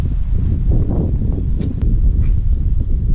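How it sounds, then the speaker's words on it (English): Gusty wind on a blustery, rainy day buffets a microphone outdoors with a low, rough roar, steady and loud throughout, with a few faint rustles on top. "our sunny day is turning into a blustery, windy, rainy day"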